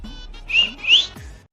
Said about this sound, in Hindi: अरे अब कौन सीटी मार लगो यार ऐसे में